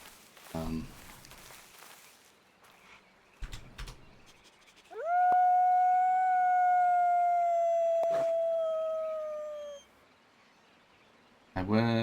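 A wolf in a video game lets out one long sustained howl with a bright, slightly falling pitch, loud and close. Brief clicks and short bursts of other noise come before and after it.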